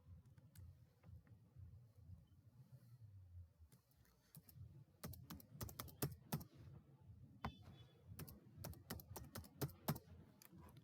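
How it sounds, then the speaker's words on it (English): A password is typed on a computer keyboard in quiet, close keystrokes, sparse at first and then coming in faster irregular bursts with short pauses over a low room hum. "type a good password for it"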